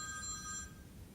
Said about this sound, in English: not my phone ringing in the middle of this